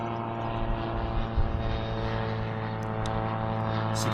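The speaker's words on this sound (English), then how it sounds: "Now we got planes." A steady propeller-engine drone from a microlight aircraft passing overhead at the Wairau Bar, constant and fairly loud with a low harmonic hum throughout.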